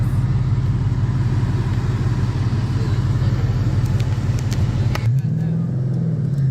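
A 2012 Ford Mustang Boss 302 with about 10,000 miles drives along, its engine giving a steady, loud low drone from the cabin that shifts in pitch near the end as revs change.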